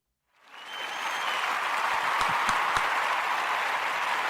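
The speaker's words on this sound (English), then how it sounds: "I'm going to give him a clap right now." Sustained applause and clapping for a guest on a podcast about a podcast network, rising from silence after a brief pause and holding steady, with a few sharp individual claps standing out.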